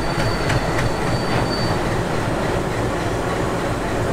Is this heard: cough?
no